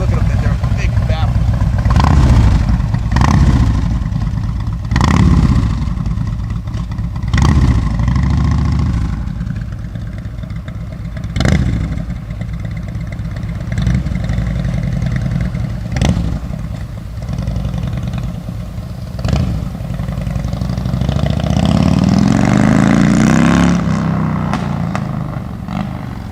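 A 1986 Harley-Davidson FLHT motorcycle engine with big-baffle headers idles with a deep, steady rumble and occasional throttle blips, while someone talks over it throughout.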